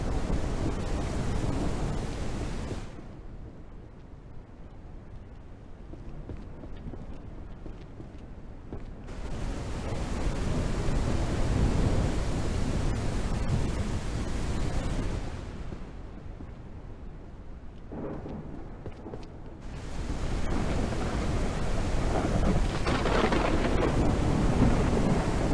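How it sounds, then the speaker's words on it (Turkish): Heavy, steady rain roars throughout in the video game Ranch Simulator, with deep rumbling thunder swelling and fading in broad waves; no voices, just the continuous downpour. "Sürekli yağıyor arkadaş."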